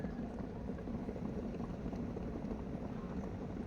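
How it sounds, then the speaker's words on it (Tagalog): A pot of shellfish soup with moringa and Malabar spinach bubbles at a steady, continuous boil, a dense low churning that is close and constant throughout. "Ayan guys, kumukulo-kulo."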